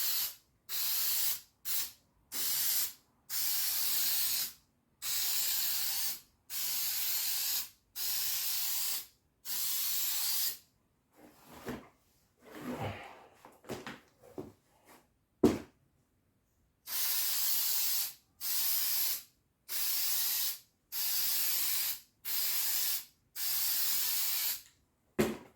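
Repeated short bursts of aerosol spray paint hiss, evenly spaced with brief pauses, while painting Land Rover Discovery 3 interior pillar linings, plus a quieter rustling stretch in the middle and one sharp click.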